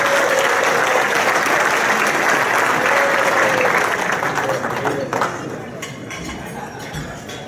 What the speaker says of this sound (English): How about a round of applause for our President, Don Marino?